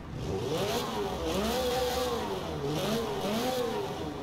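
A turbocharged 3S-GTE four-cylinder in a 1994 Toyota Celica WRC rally car in Forza Horizon 4 revs up and down in repeated rising and falling sweeps, loud and steady with no talking.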